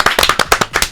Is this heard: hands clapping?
yes